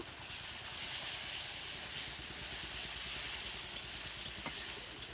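Water poured into a hot pan of frying onion and spices for chicken curry, giving a dense, continuous hiss and sizzle that holds steady at moderate volume without any voices.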